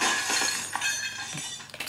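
Glass breaks in the video game Happy Wheels, a bright clinking shatter with scattered tinkling shards over a couple of seconds, heard alone without talking.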